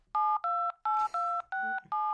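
Dialing tones from a counterfeit iPhone 15 Pro placing a call: six loud, clean two-pitch keypad beeps in a steady rhythm, each held about a quarter second with short gaps, close and alone.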